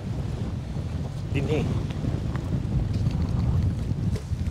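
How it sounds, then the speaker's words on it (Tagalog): Strong wind buffets the microphone on Flinders Pier in a constant low roar, with a brief spoken word barely breaking through. "Parang ang lakas ng hangin Grabe yata."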